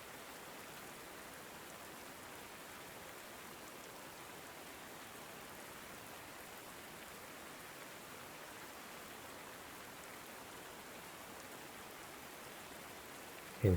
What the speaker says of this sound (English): That's a lot of rain.